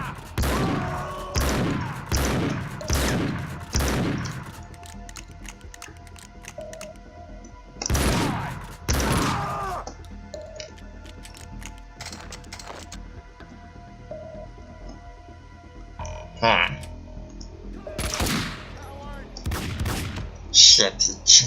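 Gunfire in the video game Max Payne 2: bursts of loud, sharp shots early on, a second cluster midway, then scattered quieter reports and clanks with faint game ambience between.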